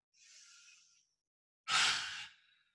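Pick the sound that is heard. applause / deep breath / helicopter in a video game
deep breath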